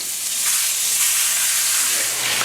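Oil sizzles steadily in a very hot pan, a loud, constant broadband hiss with no talking.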